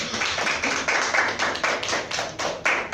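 A classroom group applauds a classmate, steady, moderately loud clapping in regular pulses for three seconds, with no talking over it.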